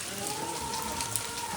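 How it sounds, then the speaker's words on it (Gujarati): Light rain falls steadily outdoors in a village on a day of continuous rain, a soft, even patter with no voices over it. "વરસાદ ધીમું ચાલુ છે."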